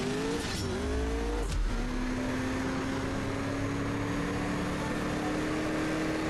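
A race car engine in CSR2 holds a steady, loud drone with a rising pitch after a quick gear change, then runs on with a nitrous boost. No voices break in.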